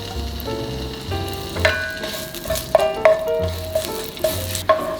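Ginger slices sizzle and spatter in a little hot oil in a pan, with loud continuous frying crackle and sharp pops and ticks scattered throughout.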